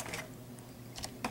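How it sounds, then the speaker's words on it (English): Computer keyboard typing while entering a configuration command in a web browser, heard as a few short clusters of key clicks with brief pauses between them, close and fairly quiet against a low background hum. "In a new box, you type in"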